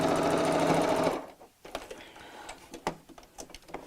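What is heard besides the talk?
sewing machine stitching tote bag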